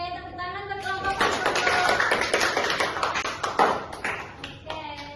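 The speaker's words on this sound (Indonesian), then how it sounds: "Oke, tepuk tangan untuk kelompok 1." Students in a classroom applaud group 1 with dense, steady hand clapping lasting several seconds, loud and close, with a voice briefly audible before and after.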